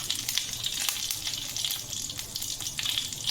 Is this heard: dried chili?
yes